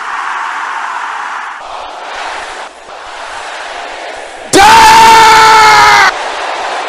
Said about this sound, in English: Can I hear you shouting this loud?